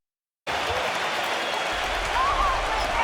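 Virtual arena crowd roaring in an NBA 2K basketball game after a big basket, a dense, steady wall of cheering and applause that starts abruptly and swells slightly toward the end, loud and alone.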